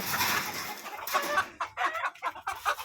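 Rhode Island Red chickens cluck in short, close bursts, a few birds calling in quick irregular succession after a brief stretch of louder mixed farmyard noise.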